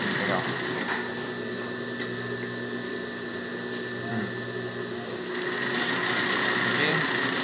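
Singer 20U embroidery sewing machine stitching steadily, a close, continuous mechanical whir with a fine rapid rhythm that swells louder near the end, with someone talking over it.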